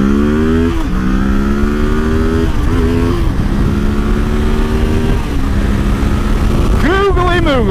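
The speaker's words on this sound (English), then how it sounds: "I love that acceleration because there's rarely cars" A 2016 Kawasaki Ninja 650 motorcycle accelerates hard on a highway, its engine whine climbing steadily through several gear changes, loud and close with steady wind roar and a final sharp rev.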